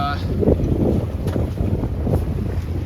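Steady wind roaring across a 24-foot San Juan sailboat flying a large genoa sail, a continuous broadband rush with gusty swells and buffeting on the microphone, nearby and fairly loud throughout.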